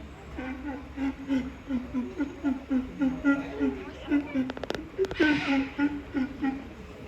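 Sea lions at a zoo show in Plaisance-du-Touch give repeated rhythmic barking calls, pulsing in a steady series of short honks at moderate distance, with a crowd murmuring and a brief burst of noise near the end.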